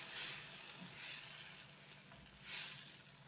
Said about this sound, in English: Next I'm adding garam masala and letting it saute with our tomato paste